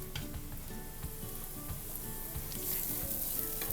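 Spice powders sautéing in a pan for a smoked paneer masala, a steady close sizzle with faint stirring scrapes and no voices.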